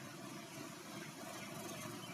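A car engine idles steadily as the clutch is eased to its pickup point, a continuous low, even rumble with slight vibration, heard close and fairly quiet.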